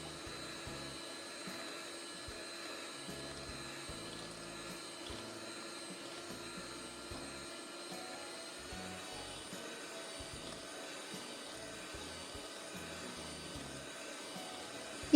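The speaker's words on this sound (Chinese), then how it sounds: "然后用打蛋器打发。" Electric egg beater whipping whole eggs for honey cupcake batter, a steady, continuous motor whine with a bright high hum, running evenly throughout with faint rattling of the beaters in the bowl.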